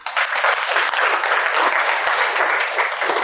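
Steady audience applause fills the whole stretch, dense and loud clapping from a crowd at a career guidance talk, with no pauses.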